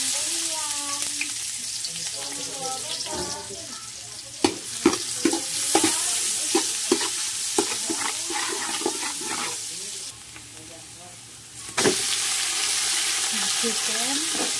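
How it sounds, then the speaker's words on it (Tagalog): Onion and garlic dropped into a hot pan for soup, a burst of loud sizzling with clattering utensil taps and stirring, a brief dip in the sizzle near the end and faint voices in places. "lagyan na natin yung sibuyas at bawang"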